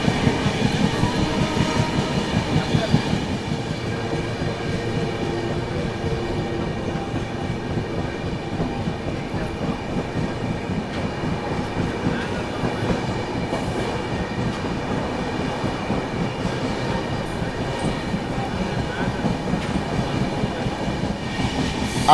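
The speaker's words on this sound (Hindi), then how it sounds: "फिलहाल अपनी गाड़ी पलवल रेलवे स्टेशन को स्किप करने वाली है" The Chennai Duronto Express rolls along the rails with a steady loud rumble and faint rhythmic clatter, running continuously with no talk.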